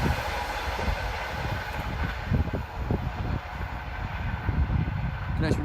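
A Lord Mayor of Newcastle train and locomotive 82219 pass the Church Lane level crossing with a continuous loud rolling rumble and repeated wheel thumps close by.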